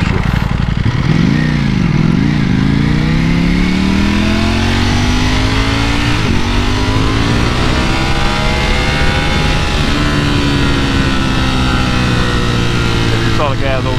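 A motorcycle engine revs up and down loudly and close by, its pitch rising and falling repeatedly, with a voice speaking over it.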